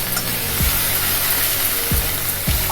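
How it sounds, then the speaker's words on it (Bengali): Spice masala for tel koi fish curry fries in oil, a steady close sizzle with a few spoon scrapes and stirring knocks against the pan. "সব কিছু দিয়ে মশলাটা ভালো করে কষে নিতে হবে।"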